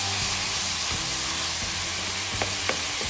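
Onions and peppers fry in a hot pan for a steak dish, a loud, steady close sizzle with a couple of faint stirring knocks near the end.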